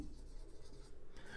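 Faint pen or marker strokes scratch across a writing surface during a chemistry lecture, a soft continuous scraping with light, uneven pulses, heard alone and quiet.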